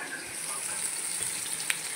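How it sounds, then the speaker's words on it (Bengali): Pieces of fish and green chillies fry in hot oil, a steady, dense sizzle with a faint crackle and one sharp pop near the end, heard close up with no talking. "দেখতে পাচ্ছি কি সুন্দর মাছগুলো ভাজা হচ্ছে।"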